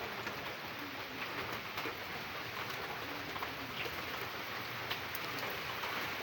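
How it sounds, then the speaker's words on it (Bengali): Steady, gentle drizzle patters continuously across the whole stretch at night in a village, soft and even with occasional louder drips, and no one speaking. "বৃষ্টি আসতেছে এই টিপ টিপ বৃষ্টি"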